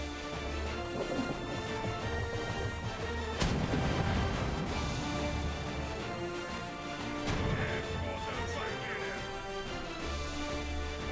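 Heavy naval cannon volleys from a ship in an online tank battle game, booming blasts and crashes with sustained rumbling between them, moderately loud and continuous.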